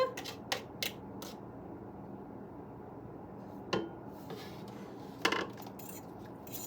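Utensil clinks and scrapes against a bowl while beaten egg is stirred into tuna for homemade cat treats, a few sharp taps scattered over quiet mixing, close and fairly soft.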